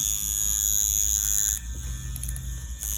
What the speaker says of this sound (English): I'm going to check out how it sounds, and I want to hear the vibration with the Trex needle